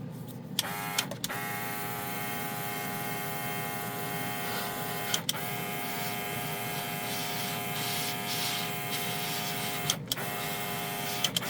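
A no-clean all-in-one airbrush system runs with a steady whirring compressor hum and a high tonal whine throughout, broken by a few brief clicks or pauses, with no talk over it.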